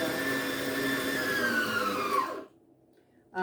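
An electric hand mixer beating thick ganache whirs loudly and close, its pitch sagging under the load before cutting out abruptly, followed by near silence and a brief rustle.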